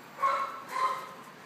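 A small young female dog gives two soft yips, fairly faint and a little distant, with no voices.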